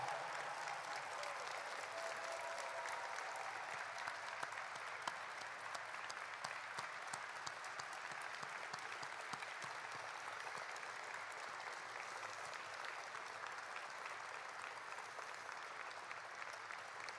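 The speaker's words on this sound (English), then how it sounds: "would you join me in giving a vigorous round of applause to Commander Bob Behnken and Commander Doug Hurley" Sustained audience applause fills the hall at Kennedy Space Center for astronauts Bob Behnken and Doug Hurley, a steady dense clapping throughout with no speech over it.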